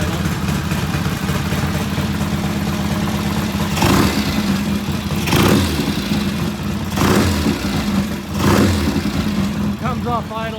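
A silver Norton motorcycle engine idles with a rhythmic, throbbing beat, then blips off idle in four sharp rev bursts, close and loud, with someone briefly speaking near the end.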